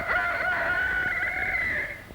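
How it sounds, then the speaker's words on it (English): A rooster on a farm crows once, early morning, a single sustained call lasting about two seconds before trailing off, moderately close and on its own, with a faint rumbling background. "Very early in the morning, the rooster sends out his call"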